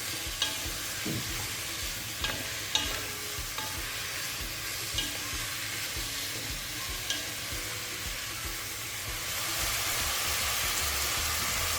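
Chicken pieces sizzle and fry in a pan for a Christmas chicken stew while being stirred, with a steady close hiss and occasional scraping clicks of the spoon, growing slightly louder toward the end.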